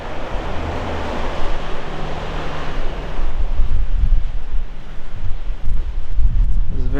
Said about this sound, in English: It's a very windy day out today, so I do apologize for that.